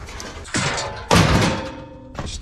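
An old drawer is tossed onto a scrap pile while scrapping, landing with a couple of loud hollow thuds and clatters in quick succession.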